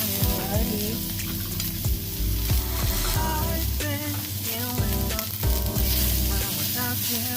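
Garlic sizzles and fries steadily in hot oil for a stir-fry of prawns with salted eggs, with a few stirring scrapes and clinks of a utensil over the continuous crackle.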